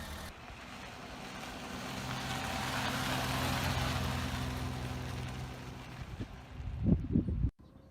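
A Maruti Suzuki 800 car's 800cc Suzuki F petrol engine runs at a steady idle with a broad rumbling hum, then revs briefly near the end before cutting off abruptly.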